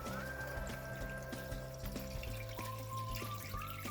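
Water pours into a pot for fish broth with saffron in a kitchen, a faint steady trickle running under low background music.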